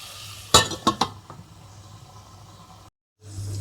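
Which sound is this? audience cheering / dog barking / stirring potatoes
stirring potatoes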